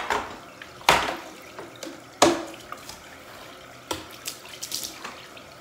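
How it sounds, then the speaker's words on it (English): Water runs from a tap into a sink during cleaning, in a few short bursts and splashes with gaps between them, close and moderately loud. "Turn your water on."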